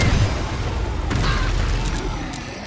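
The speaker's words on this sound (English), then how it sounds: "Hit this guy with another booming blade." A booming blade spell strike lands in Baldur's Gate 3, a deep low boom with a heavy thud at the start that rolls into a rumbling resonant decay lasting a couple of seconds.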